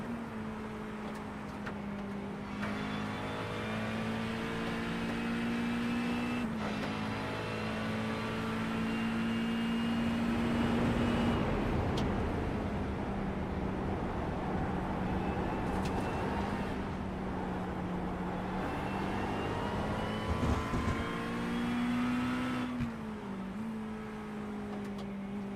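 Ferrari race car engine in a racing video game, a steady droning tone that shifts pitch up and down through gear changes, continuous and fairly loud across the whole stretch.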